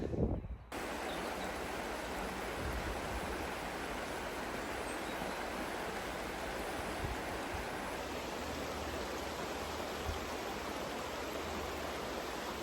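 Steady broadband rush of a clear spring-fed stream, continuous and fairly close, like water running over stones, with no voices.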